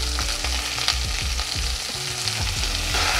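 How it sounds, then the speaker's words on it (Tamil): Onions and garlic sizzle steadily in a pan with cumin and fennel while making a Chettinad tomato kulambu, a dense continuous fry with faint stirring scrapes throughout. "லேசாக வெங்காயம் சுருங்குற வரைக்கும் ஒரு 2 நிமிஷம் வதக்கலாம்"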